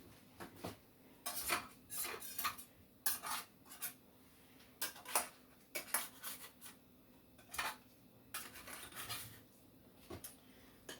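A spatula scraping and clinking against a dish while lifting and serving veal parmesan, a series of close, irregular metallic scrapes and taps in an otherwise quiet room with no talk.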